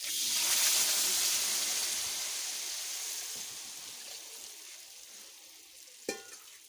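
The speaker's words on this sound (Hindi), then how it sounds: "और अब मैं डालूंगी इसमें पानी।" Pre-heated water poured into a hot pot of Chakwal-style halwa bursts into a loud hissing sizzle that slowly fades, ending with a short clink near the end.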